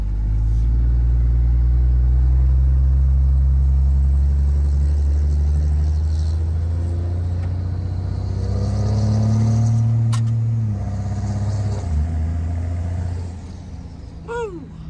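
A 1500-horsepower Cummins-powered truck pulls away and accelerates, its heavy diesel drone loud and close, rising and shifting through gears before the roar tapers off near the end.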